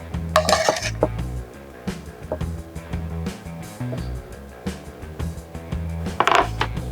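Cooked meat is served from a pan onto a plate, with a series of clinks and scrapes of a utensil against metal and dishware, louder bursts near the start and end, and no talking.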